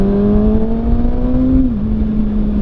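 Kawasaki ZX6R motorcycle engine held at a steady high rev around 8,000 RPM, a loud continuous whine with a slight pitch rise then a small drop near the end, close and alone.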